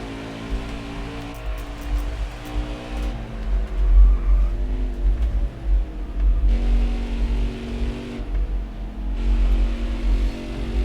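A race truck engine in NASCAR Heat 5 drones loudly and continuously, its pitch rising and falling as the throttle is worked, with a heavy low rumble throughout and no talk over it.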